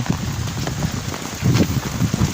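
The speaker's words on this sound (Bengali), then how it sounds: "দেখেন পুকুরে বৃষ্টি হচ্ছে" Steady rain patters on a village pond outdoors, a continuous soft hiss with light gusts of wind buffeting the microphone.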